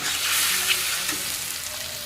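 Green chilli, ginger and onion hit hot oil in a frying pan, giving a steady, loud, close sizzle with faint stirring scrapes and no talk.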